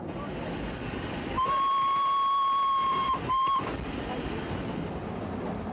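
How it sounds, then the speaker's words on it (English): The Flying Scotsman steam locomotive runs through countryside on its 1989 tour of Australia. A steady rushing rumble carries a sustained whistle blast of about two seconds, followed by a short second toot. "The Flying Scotsman followed and made a brave sight as it rolled through the beautiful Highland countryside"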